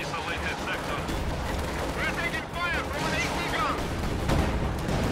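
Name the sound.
small arms gunfire in a WWII strategy video game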